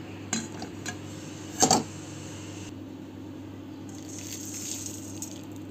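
Roasted metkut spice mix is scraped out of a metal pan in a home kitchen, giving a few light clinks and one short, sharper scrape-and-clatter partway through, all fairly quiet against a steady background hum.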